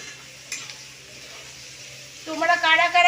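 Chicken, prawns, eggs and vegetables stirred in a frying pan, with a steady soft sizzle and a light scrape, then a voice rising over the cooking near the end.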